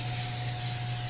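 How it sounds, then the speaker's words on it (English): Olive oil cooking spray hisses steadily from a can onto a pan for chicken drumsticks, one continuous close spray with a faint hum under it. "So now we're going to spray our bit. Olive oil."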